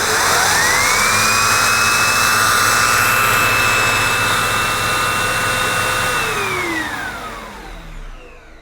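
A Zanuusi AirSpeed Lite II pet bagged upright vacuum cleaner runs at the hose end with an empty bag, giving a loud, steady high whine that holds for about six seconds and then spins down and fades.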